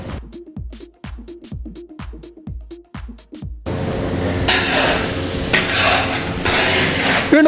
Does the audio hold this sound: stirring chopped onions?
yes